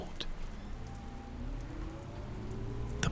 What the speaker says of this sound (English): the sound of the rain against the windows soothing in the quiet